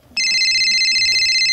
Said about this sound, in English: The phone is ringing!